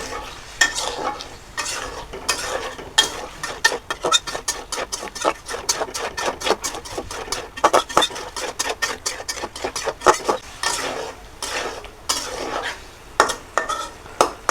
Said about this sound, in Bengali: ভেজে রাখা আলুগুলো দিব, আলু সহ আমি এই মশলাটা কষাবো।